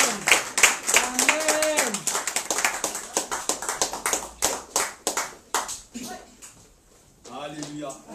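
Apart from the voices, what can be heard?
church congregation applauding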